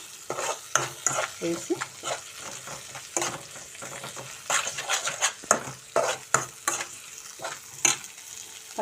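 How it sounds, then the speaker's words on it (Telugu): Onions and ginger garlic paste frying in a pan for an eggplant and tomato curry, a soft steady sizzle broken by repeated scraping stirs of a spoon against the metal, close, with a brief word spoken. "ఇప్పుడు కొంచెం అల్లం వెల్లుల్లి పేస్ట్ అయితే వేద్దామండి. పచ్చివాసన పోయేంత వరకు మనం వేయించుకుందాము."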